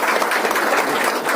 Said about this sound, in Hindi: कितने लोग जोरदार तालियों के साथ उनका स्वागत करते हैं